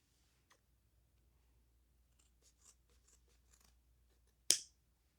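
Scissors give a single sharp snip through a damp sponge being cut into long strips, loud and close after several seconds of faint handling clicks.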